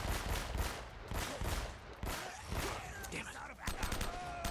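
Rapid bursts of gunfire, including sniper shots, crackle repeatedly in Uncharted: Drake's Fortune, loud and dense, with a few short pauses between volleys.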